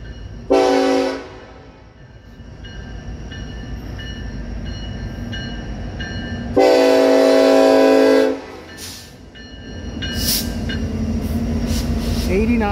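A Union Pacific-led southbound mixed freight train passes a road crossing on Township Ave, rumbling loudly and close as its horn sounds in two long blasts amid steady rail noise, with people talking nearby.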